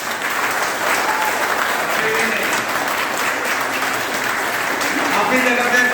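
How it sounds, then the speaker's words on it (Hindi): An audience at a live business event in Himatnagar, Gujarat breaks into dense, continuous applause, loud and even throughout with a faint murmur of voices beneath. "जोरदार तालियां होनी चाहिए"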